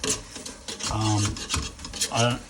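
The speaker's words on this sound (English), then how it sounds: "push it all down to the bottom, like suffocate it, and this will break the mince up" A potato masher presses and scrapes beef mince against a pan for pasta bolognese, making a steady close rasping and rubbing with a few louder pushes.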